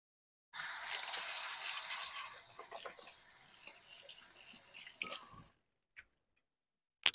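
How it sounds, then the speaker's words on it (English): Hands washed under a running kitchen tap while making meatloaf, a bright hiss of water that tapers into splashes and drips, then stops with a few faint clicks. "So let me wash my hands real quick."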